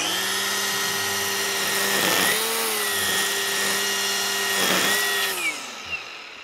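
SKIL PWRCORE 40V string trimmer cutting a patch of tall grass, a steady high electric whine held throughout with two brief dips as the line bites into grass, close and loud, with no talk.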